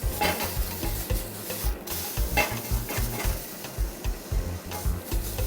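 Steady sizzling and scraping as prawns grill in a hot pan, with repeated stirring strokes and clatter close by.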